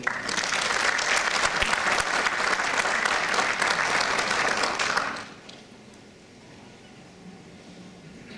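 An audience at an awards ceremony claps steadily and loudly for about five seconds, then the applause fades to a quiet room murmur.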